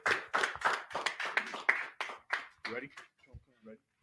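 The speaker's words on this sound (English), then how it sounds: "Clap it up." Crowd at a religious Sabbath service clapping in quick rhythmic bursts, mixed with loud voices, tapering off toward the end.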